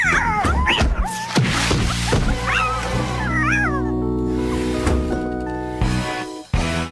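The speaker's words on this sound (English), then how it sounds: "and sends him outside to fight the cat." Cartoon cat meowing and caterwauling in a fight with a dog, loud rising yowls and wails over a busy mix of music and scuffle sounds, with a dog whimper mixed in.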